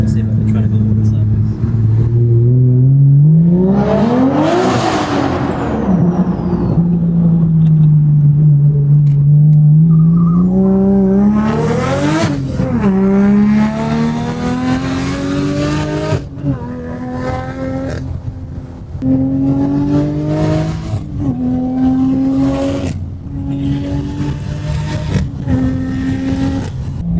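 Single-turbo BMW engine revving hard and drifting nearby, a loud rising and falling roar with sweeping pitch changes and turbo whine, and people talking and exclaiming over it throughout.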